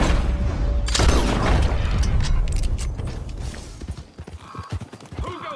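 Rhythmic clip-clop of horse hooves with creaking tack and a whinny at a stable in Red Dead Redemption 2, loud at first and then settling into lighter, scattered steps.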